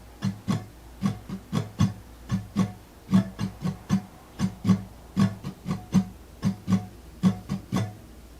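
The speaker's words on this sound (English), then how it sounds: "This strumming pattern at full speed will sound something like this." An acoustic guitar is strummed in a quick, steady repeating pattern of crisp strokes, played quietly and alone with no voices.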